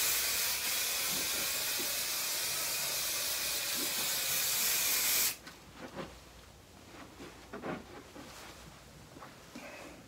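Spray baste adhesive hisses from an aerosol can onto a quilt sandwich, a steady close spray for several seconds that stops abruptly, followed by soft rustling and handling of fabric.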